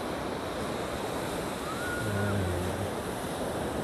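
Ocean surf breaking on the beach at Pangandaran, Indonesia: a steady, broad wash of waves with some wind noise on the microphone, continuous and fairly loud throughout, with a faint brief tone partway through.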